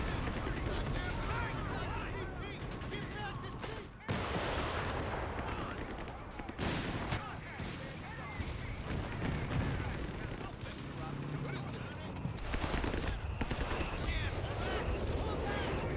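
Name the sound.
mortar fire in Company of Heroes 3 video game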